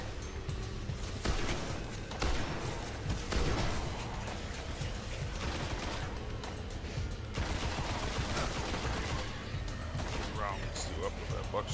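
Shotgun fire at enemies in Destiny comes as repeated heavy blasts amid ongoing combat clatter, with a voice talking over much of the action.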